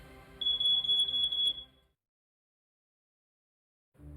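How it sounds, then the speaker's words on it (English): A loud, shrill electronic smoke detector tone pulses rapidly for about a second, then cuts off into silence before faint low background noise returns. "make sure every home has a working smoke detector"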